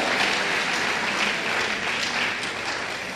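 A church congregation applauds loudly and steadily in a dense, continuous wave of clapping that fills the space throughout and eases only slightly toward the end.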